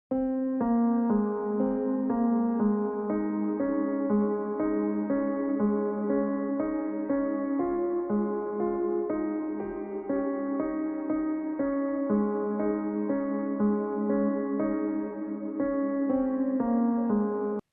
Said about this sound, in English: I'll give you a demonstration of the piano that I used here for sort of an ambient thing that I'm doing.